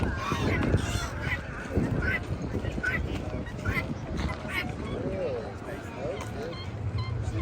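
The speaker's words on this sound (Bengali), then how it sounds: "এখানে রাজহাঁসও পাওয়া যায়।" Geese honk repeatedly at a livestock and poultry market in Mulvane, Kansas, their nasal calls rising over steady crowd chatter and background bustle.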